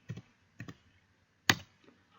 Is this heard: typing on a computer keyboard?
yes